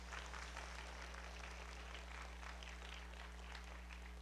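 An audience claps together in a Friday chapel service for graduating students, a steady even wash of applause over a low constant hum, with no voices on top.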